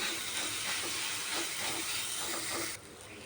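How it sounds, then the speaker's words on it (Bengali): A loud, steady sizzling hiss of water poured onto hot fried spices in a pan, dropping off sharply just before the end. "এখন আমি এখানে পরিমাণ মতো জল দিয়ে দেব"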